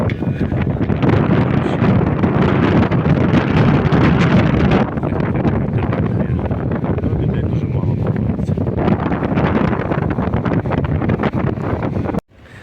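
Strong wind on the coast at Ustka, Poland, buffeting the microphone in loud, continuous gusts, a roaring blustery noise that drops out abruptly at the end.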